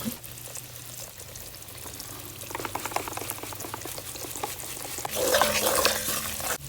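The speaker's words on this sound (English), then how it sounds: "Pour a little bit, then mix." Liquid is poured a little at a time into a cooking pot and stirred in, a steady bubbling, sloshing wash with scraping strokes that swell louder toward the end.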